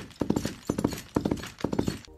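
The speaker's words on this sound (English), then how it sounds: "the galloping or the trotting or cantering or whatever is in time with the horse on the screen" Foley horse hooves beat out a galloping rhythm in repeated groups of quick clip-clops, close and crisp, four bursts in a steady cycle with no voices.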